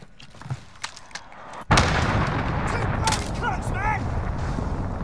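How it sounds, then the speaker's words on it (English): Heavy explosive impact from an enemy cruise missile strike in a multiplayer shooter game, a sudden loud boom followed by a sustained rumbling roar with scattered crackling debris, while voices talk over it. "Enemy cruise missile incoming"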